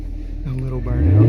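A 2019 Camaro SS with a 10-speed automatic, traction control off, revs for a short burnout; the engine roar swells louder toward the end under voices.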